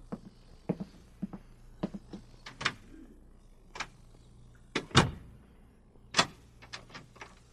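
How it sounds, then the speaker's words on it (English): A door closing and being locked in a hospital, as a radio drama effect: a series of sharp clicks and knocks, with a heavier thud in the middle and more latch clicks after it, close and clear. "The door will be locked."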